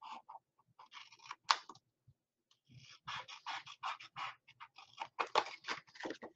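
Scissors snip along a score line on paper in quick bursts of crisp cuts with short pauses between them, close and fairly quiet.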